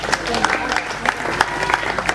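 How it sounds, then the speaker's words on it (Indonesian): A crowd at a tourism ambassador event in NTT, Indonesia claps for the winners, a brief, steady patter of hands with speech blended underneath. "Kita kasih tepuk tangan dulu untuk yang menang."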